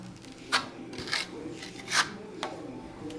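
A plastering float scrapes and rubs across wet decorative texture plaster on a wall in overlapping figure-eight strokes, giving a few distinct rasping swipes about half a second apart, close and fairly clear.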